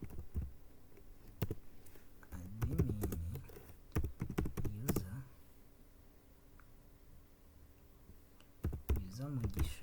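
A database command being typed on a computer keyboard while setting up an Oracle database on Linux: irregular clusters of close keystrokes and clicks, with a voice talking in between.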